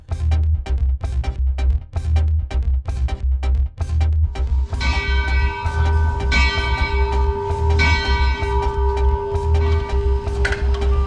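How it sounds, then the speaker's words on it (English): A working locomotive bell at the B&O Museum clangs in a steady, repeated rhythm, loud and close, then continues ringing under a sustained hissing of simulated steam and a tonal drone. "The engine has a working bell and a simulated whistle and steam."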